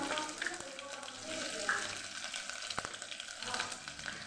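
Cumin seeds, curry leaves and green chilies sizzle in hot oil for Kathiyawadi tempered urad dal, a steady soft frying hiss with light stirring, heard alone.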